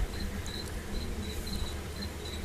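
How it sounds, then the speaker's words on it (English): A cricket chirps in short, regular high trills against a soft background hiss, steady and fairly close. "Oop, you see another cricket."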